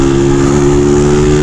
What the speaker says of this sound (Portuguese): a motinha é fraquinha, rapaziada